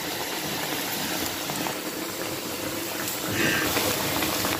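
Thattai snacks made from dosa batter frying in hot oil, a steady broadband bubbling hiss that swells slightly louder near the end.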